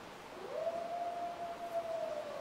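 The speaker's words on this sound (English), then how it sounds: "Oh, there's the wolf howl." A distant wolf howl in a hunting video game set in mountains, a single faint sustained tone that rises, holds steady for nearly two seconds and slowly trails off over quiet background hiss.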